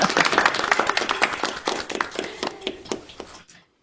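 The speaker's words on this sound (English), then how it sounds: "Clap, clap, clap, clap, clap," An audience claps in a fairly steady rhythm of distinct hand claps, moderately close, gradually thinning before stopping abruptly into silence.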